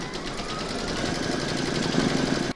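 An embroidery machine quilts a stitching round on a square scallop placemat, a steady close mechanical whirr with fast rhythmic needle pulses that runs without a break, then cuts off abruptly at the end.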